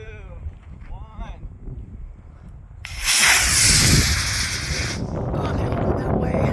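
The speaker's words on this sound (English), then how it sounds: "we launched the final rocket, the Spirit rocket, with the same D12-5 motor as the first 2 launches" A model rocket, the Spirit, lifts off on a D12-5 motor: a sudden loud rushing hiss bursts in and lasts about two seconds, then trails into wind noise, with people talking before and after.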